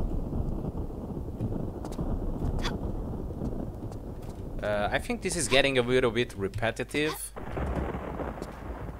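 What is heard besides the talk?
storm around the pyramids in video game Tomb Raider IV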